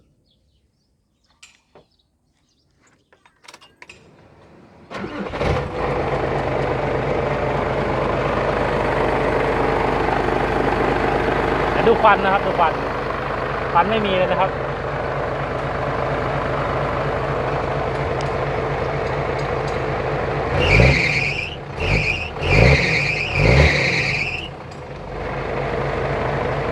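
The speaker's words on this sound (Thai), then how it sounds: "เดี๋ยวสตาร์ทเครื่องให้ฟังนะครับ เครื่องก็สตาร์ทง่ายๆ" A JO8C diesel engine in a tractor truck cranks and fires, then settles into a steady loud idle, with someone talking over it and a brief rev late in the clip.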